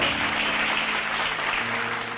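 An audience claps together during a Bible study gathering: dense, steady applause that fills the whole moment and stays loud throughout, with no talk over it.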